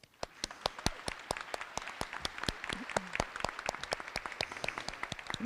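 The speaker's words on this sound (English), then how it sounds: "we should give him a round of applause" An audience applauds a colleague at a school education foundation's celebration of learning, a steady crowd of hand claps with sharp individual slaps standing out, sustained and fairly even throughout with no talking over it.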